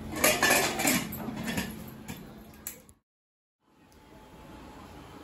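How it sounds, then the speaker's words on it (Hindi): A metal pressure cooker lid clatters and clanks as it is fitted and closed over mutton curry, busy close metallic knocks that stop abruptly into silence before faint room tone returns. "अब मैं प्रेशर कुकर का ढक्कन बंद कर दूंगी।"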